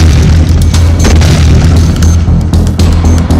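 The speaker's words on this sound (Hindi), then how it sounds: "उसके बाद घर में जोरदार धमाका हुआ" A loud bomb blast inside a house in Bhagalpur: a heavy, continuous booming roar with deep rumbling low end and scattered sharp cracks, sustained throughout at high volume.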